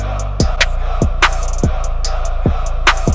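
A sliding bass in a hip-hop beat hits roughly every half second, each note booming and dropping sharply in pitch, alongside crisp ticking hi-hats and an underlying low drone, loud and upfront.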